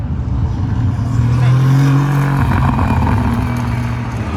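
The V8 engine of an Aston Martin Vantage GT3 Evo, a sim racing car, drones loud and steady with a brief rise in pitch around the middle, a continuous raw roar with no talk.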